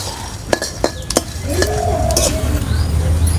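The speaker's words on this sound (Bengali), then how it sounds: "এইবারে এটাকে শুকনো কড়াই ভেজে নেবো" Whole spices (chili, cumin, peppercorns, coriander, cinnamon, cardamom) dry-roasted in a kadai, with a few sharp clinks of a spatula against the pan, then a soft continuous sizzle and scraping as they are stirred.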